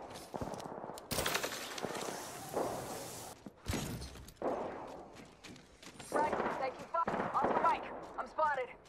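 Gunfire in the video game Apex Legends, sharp bursts of shots and impacts scattered between quieter stretches, mixed with game effects and occasional voice lines.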